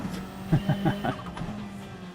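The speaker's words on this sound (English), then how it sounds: "the turbo in this car, when it's decreasing, sounds like a chicken gobbling or whatever they do, clucking" A Porsche 911 GT3 engine in a racing game drones while a quick series of four or five fluttering, clucking chirps sounds as the turbo winds down.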